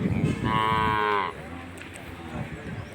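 At the Palayakottai cattle market a cow gives a single loud, sustained moo lasting under a second, near and clear, with crowd noise and scattered sounds before and after.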